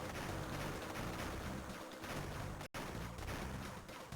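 Fireworks explode in the Crash Bandicoot video game, a dense, loud run of booming bursts that barely lets up for about four seconds, broken only by one short drop in the middle.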